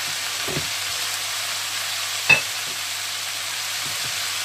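Food sautés in a hot pan with a steady, even sizzle and hiss, broken by a few faint clinks of a utensil stirring.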